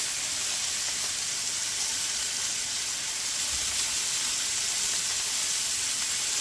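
Onions frying in butter give off a steady, even sizzle and hiss that stays close and continuous, with no voices over it.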